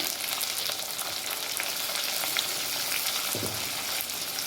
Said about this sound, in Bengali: হালকা করে পেঁয়াজটা ভেজে নিয়েছি। এবার দিয়ে দেবো টমেটো কুচি,